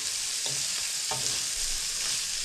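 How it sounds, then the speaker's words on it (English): Beef and onions sizzle steadily in a hot frying pan, a constant close hiss broken by a few soft scrapes and stirs. "I'm going to fry that off now. I'll bring the beef back into that as well."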